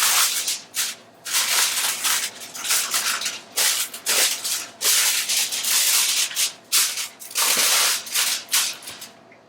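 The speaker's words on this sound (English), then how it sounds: "My plan is to contain the ends with this aluminum foil." Aluminum foil crinkled and wrapped around the ends of a roast, loud close crackling and rustling in irregular bursts with no talking.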